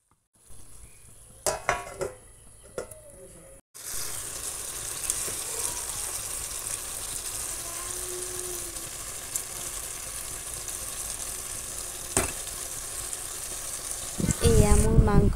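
Water poured into a pan of potatoes frying for a duck-meat curry, after a few clinks and a brief pause, then a sustained loud sizzle and bubbling hiss that swells at the end.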